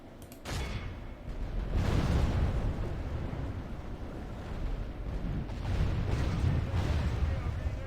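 Mortar artillery bombardment in Total War: Warhammer, Principality of Reikland campaign: heavy, rumbling blasts roll together into a loud, continuous barrage that swells and eases over several seconds.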